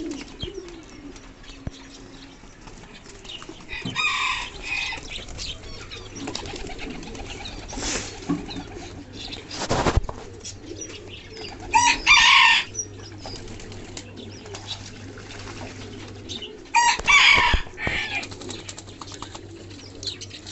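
Fancy pigeons bathing on a sunny day, with repeated bursts of splashing and wing flapping in the water over a steady background of soft cooing and bird calls.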